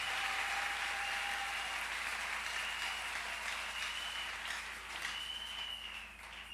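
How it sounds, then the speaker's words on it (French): A church congregation at a live prayer service applauds with steady, dense clapping that rolls on throughout, with faint tones ringing over it and a slight fade near the end. "Acclame maintenant pour la parole de Dieu."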